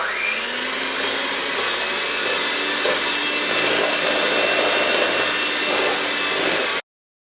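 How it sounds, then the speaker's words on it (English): An electric whisk mixing fish batter, a loud steady motor whir with a scraping, rubbing texture that runs unbroken for several seconds and then stops abruptly. "I'm just going to whisk it each time and keep adding a little bit more in until it becomes a really good batter"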